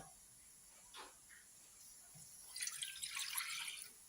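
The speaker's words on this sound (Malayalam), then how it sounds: "ഇനി നമുക്കൊരു ചീനച്ചട്ടി അടുപ്പിൽ വെച്ചിട്ട് വെള്ളം ഒഴിക്കണം" Water poured into a kadai set on the stove, a faint trickling and hissing pour that swells briefly after a few quiet, drippy moments, heard alone at low level.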